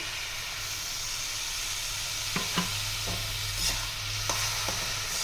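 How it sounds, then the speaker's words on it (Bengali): Chana dal mohanbhog cooks with milk and sugar in a pan, giving a constant bubbling hiss with a few soft scraping stirs and light taps partway through. "এবার আমি এর সঙ্গে একটু নাড়াচাড়া করে নেব।"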